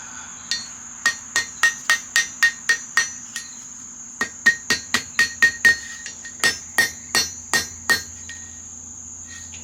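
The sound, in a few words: hammer striking metal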